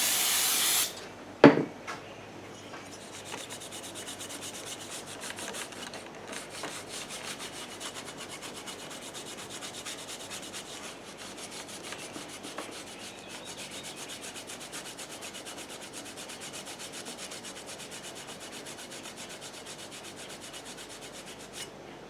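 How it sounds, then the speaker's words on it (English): Cleaner sprayed in one short, loud burst onto a lawn mower engine during a head gasket replacement, followed by a long stretch of steady, close rubbing and wiping. "Let's spray a little stuff on here and kind of give it a wipe."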